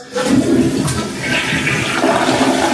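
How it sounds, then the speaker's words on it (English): A toilet flushes fully after a repair with a new flange gasket, a loud continuous rush and gurgle of draining water close by that holds steady throughout, with no talking. "I'm just going to go ahead and fully flush the toilet"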